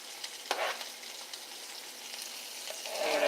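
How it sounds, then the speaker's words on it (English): Onions sizzle loudly in a hot pan as they fry, a steady close crackling hiss with a sharp burst when they first hit the oil and a swell near the end. "time to throw in these onions"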